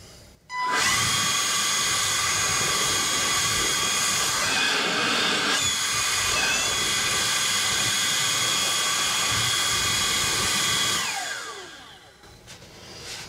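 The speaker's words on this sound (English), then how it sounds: "Milwaukee, I guess job site blower is what they call these things." A Milwaukee job site blower runs steadily at full speed, a loud close whining roar that starts abruptly, holds for about ten seconds, then winds down with a falling tone.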